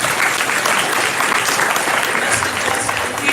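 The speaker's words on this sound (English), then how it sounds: "Let's give her a round of applause." An audience at a memorial celebration of the life of Dr. Ronald E. McNair breaks into loud, steady applause from many hands, close and continuous, with a few faint voices mixed in.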